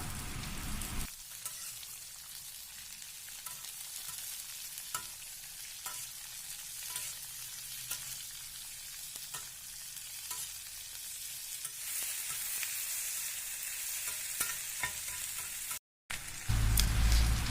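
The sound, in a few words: onions sautéing in oil for Tamil chicken kulambu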